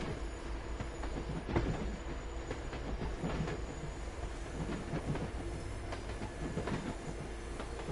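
A video game train rolls along the tracks with a continuous rumble and rhythmic clickety-clack of wheels, occasional metallic squeals, moderately loud and without voices.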